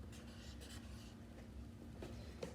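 A student writes the number 9 during a math lesson, a soft, faint scratch of marker or pencil on a board or paper lasting a couple of seconds, with no talking.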